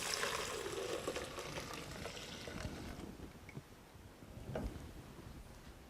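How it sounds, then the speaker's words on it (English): Homemade almond milk is poured back into its container in a kitchen, giving a steady, soft liquid rush with faint splashing that fades toward the end, with no talking. "We're going to go ahead and pour this right back in here."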